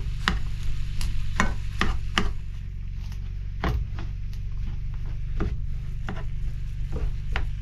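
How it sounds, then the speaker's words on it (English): Venison sizzles as it browns in a pan, a steady frying hiss broken by sharp knocks and scrapes of a utensil stirring the meat, close and fairly loud. "now we're going to go ahead and brown the meat. Saute it up a little bit of saute"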